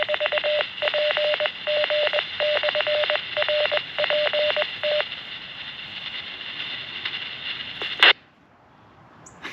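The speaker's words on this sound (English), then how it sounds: "Just key up the mic to kerchunk a repeater." A Baofeng DM-32UV radio keys up a 70 cm repeater: a rapid train of beeping digital tones over a steady hiss for several seconds, then a sharp click and the carrier drops to quiet hiss.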